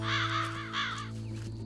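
Crows cawing in a cartoon scene, a couple of harsh, fairly close caws over a steady background hum.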